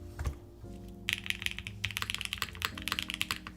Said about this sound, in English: The keyboard does sound really good, though.